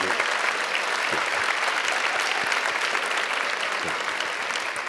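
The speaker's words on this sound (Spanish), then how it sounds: "Un aplauso para Iker Jiménez a toda una trayectoria" Steady, dense applause from a large audience fills the whole stretch, loud and continuous without pause.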